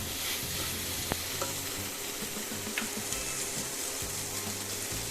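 Onion and grated boiled potato sizzle steadily in a hot pan while being stirred, a continuous frying hiss with soft scraping of the spoon and a couple of sharp clinks, no voices.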